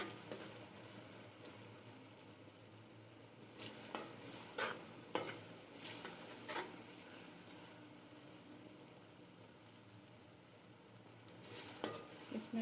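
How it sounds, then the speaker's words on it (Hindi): Green chillies frying in oil, with a soft steady sizzle and scattered clinks and scrapes of a spoon stirring the pan, a few louder knocks standing out, close by and fairly quiet. "इसमें साथ साथ मैं चमचा हिलाती हूँ ताकि नीचे ना लगे"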